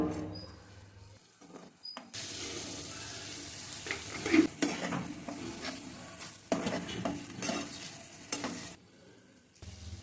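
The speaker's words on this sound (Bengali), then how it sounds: "এই গ্রেভিটার মধ্যে একটু কাজু বাদাম বাটা দিয়ে দিলাম" Spice gravy with cashew paste for a bottle gourd kofta curry being stirred and fried, scraping spoon strokes and bursts of sizzling that come and go, close up with no talk.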